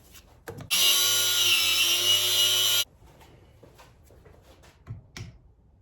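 A power tool, like a cutting saw or grinder, whines loudly for about two seconds cutting a stuck suspension part from a Mazda RX7, then stops, followed by scattered clanks and scraping of metal parts.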